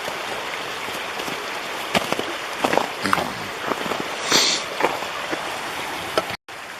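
Water of the Indian River stream near Sitka, Alaska rushes steadily, a continuous broadband flow with scattered splashes and small knocks close to the microphone and no talking.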